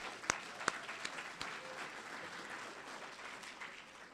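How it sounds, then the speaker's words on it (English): A crowd gives a round of applause at a district budget town hall meeting, faint and somewhat distant clapping from many people, with a couple of sharper individual claps standing out near the start. "give yourselves a round of applause"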